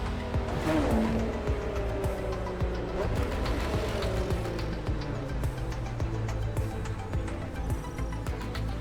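Car engine in The Crew Motorfest slowing from a coast as the brakes bring it to a stop, a steady rumbling drone with falling tones and light tire noise throughout, fairly loud with no talk.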